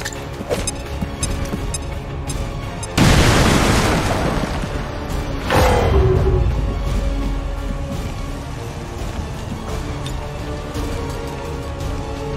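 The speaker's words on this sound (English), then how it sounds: "Grenade out!" Grenade detonating in XCOM 2: War of the Chosen, two loud, close booms a few seconds apart, each a heavy blast with a rumbling decay over quieter background game sounds.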